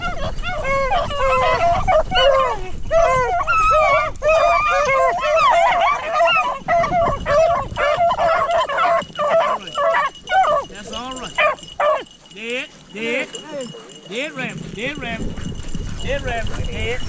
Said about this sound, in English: look at that dog going in the bushes.